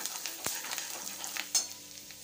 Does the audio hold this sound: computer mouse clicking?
no